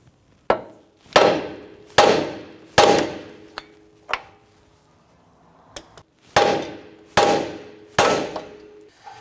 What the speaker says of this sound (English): We're going to go ahead and hit the top of the knuckle here and release the upper control arm ball joint.